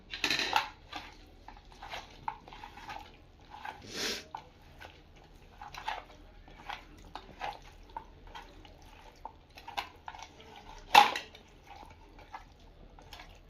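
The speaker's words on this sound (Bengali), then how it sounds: "আর 1 চামচ কর্নফ্লাওয়ার মিশিয়ে ম্যারিনেশন করব চিকেনটাকে" Chicken pieces being mixed by hand with ginger-garlic paste and a spoonful of cornflour in a bowl, giving faint scattered clinks, taps and wet squelches, with one sharper knock near the end.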